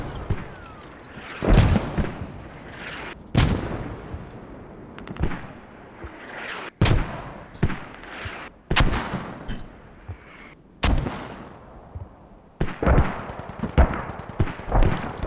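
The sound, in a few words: mortar fire in a video game battle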